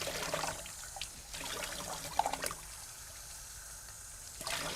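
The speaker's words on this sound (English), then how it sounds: "I am going to rinse them off just a little bit because they aren't organic" Cranberries rinsed under a running tap give a close trickle and splash of water in two bursts, separated by a quieter pause and ending with the flow starting again.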